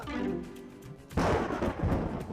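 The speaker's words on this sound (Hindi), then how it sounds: "ये बादलों के गरजने की आवाज है" A deep, booming rumble of thunder rolls in suddenly after a quieter stretch with faint talk, then lingers loudly.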